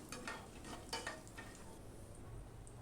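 Cumin seeds and whole spices—cinnamon, cardamom and cloves—fry in oil with a faint sizzle and a few light scraping stirs near the start, quiet and close.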